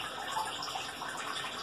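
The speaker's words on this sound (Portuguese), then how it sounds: "eu liguei a água lá. Tá enchendo." Water runs steadily into a toilet cistern after the supply is turned on, a continuous close hiss of filling water with no breaks, inside a bathroom during replacement of an Astra side-button flush kit.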